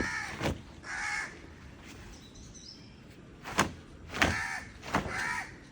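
A crow caws repeatedly outdoors, with about five or six harsh calls spaced unevenly, fairly close and clear over faint background noise.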